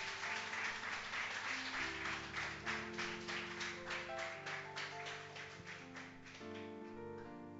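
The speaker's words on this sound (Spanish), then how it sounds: "¿Cuánto le quiere aplaudir al Señor?" Church congregation clapping in steady rhythm alongside sustained music, the applause fairly loud and even throughout.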